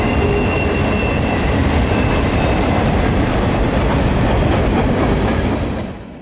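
A freight train rolls past at close range near Tampa Bay, its loud steady rumble and wheel clatter filling the air before easing off at the very end.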